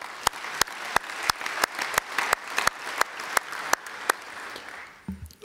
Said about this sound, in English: please join me in a round of applause for the demonstration.